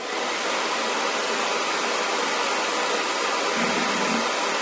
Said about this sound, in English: And then blow dryer on cool air.